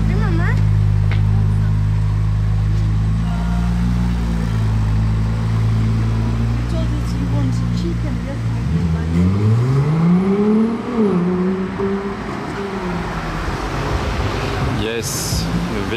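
A V6 hybrid sports car passes close by. Its loud, low engine hum holds steady and then swings up and down in pitch as it goes past, fading to lighter street noise.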